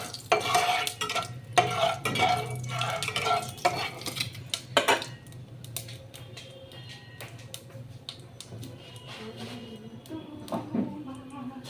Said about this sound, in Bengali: তেলের ওপরে সামান্য কটা জিরে দিলাম সাদা জিরে